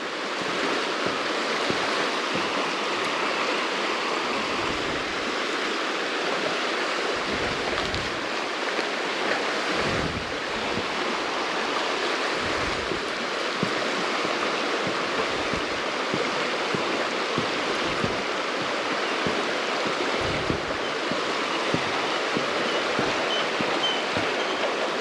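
Steady rushing river water flows continuously beneath a swinging bridge, a broad even wash of sound with no voices.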